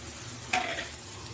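Peas fry and get stirred into a cooked-down spice paste with ginger in hot oil, a soft continuous sizzle broken by one brief scrape of the spoon against the pan.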